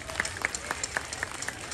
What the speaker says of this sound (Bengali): একটা জোরে হাততালি।